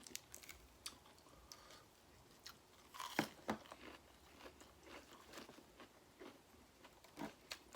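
Someone eats fresh noodle soup with pork offal, vegetables and shrimp paste, making faint close chewing and crunching sounds in scattered bites, with one louder crunch partway through and no talking.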